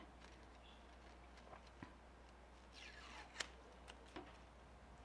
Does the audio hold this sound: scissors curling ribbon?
yes